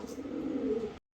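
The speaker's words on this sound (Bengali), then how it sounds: "দেখেন এই যে পাকিস্তানি বুদাপেস্ট এক পেয়ার কবুতর আছে।" A pair of Pakistani Budapest pigeons gives a single low, throaty coo lasting about a second, close and clear, then cuts off into silence.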